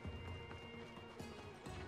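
Horse hooves galloping in the video game Assassin's Creed Odyssey, a continuous rumbling run of hoofbeats under steady game sound, fairly loud and close.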